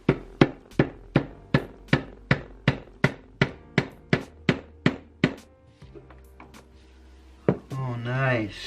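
Hammer blows on a Nissan NV-T350 transmission during assembly, about fifteen sharp, evenly spaced metallic knocks close by, then a pause and a short bit of talk at the end.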